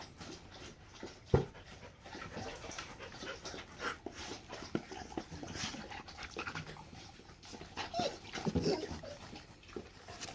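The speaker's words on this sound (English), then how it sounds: "Go ahead, old puppy doggies." Dogs pant in quick rhythmic breaths close by, broken by a few high whimpers and scattered thumps and movement, fairly quiet overall.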